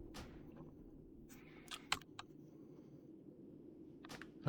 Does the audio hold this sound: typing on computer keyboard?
yes